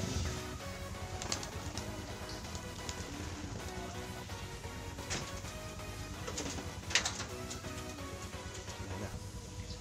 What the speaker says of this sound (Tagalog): Sobrang rami talaga ng ibon.